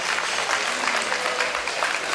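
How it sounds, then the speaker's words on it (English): Dense applause from a boxing crowd after a four-round bout, a steady wash of clapping at moderate loudness with no break. "let's give our boxers a big round of applause"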